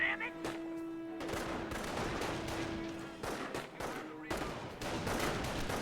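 Rifle squad volleys in a Company of Heroes match, rapid overlapping cracks and bursts of gunfire with battlefield clatter, dense and loud throughout, under a faint layer of talk.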